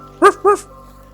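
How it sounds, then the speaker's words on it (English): A pet dog gives two quick, close, loud barks in a row, then falls quiet, in a quiet indoor or yard setting in rural Sweden. "that's my dog Vicky,"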